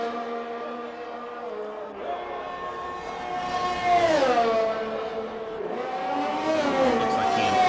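A race car engine screams through Parabolica at Monza, its loud sustained note sweeping down and rising again as the driver works through the gears, with the tone dropping and climbing in steady waves the whole time.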